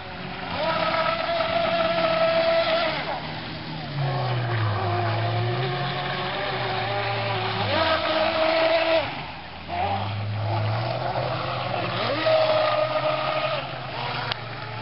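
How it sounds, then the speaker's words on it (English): A motorboat engine drones steadily, its pitch rising and falling as it passes nearby, with wind and water noise throughout. "There's a boat coming, Brad."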